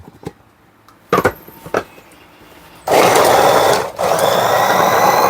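A Sokany 800-watt steel-body electric chopper chopping onions: a few short clicks and bursts, then a loud, sustained whirring motor roar with a brief dip before it resumes.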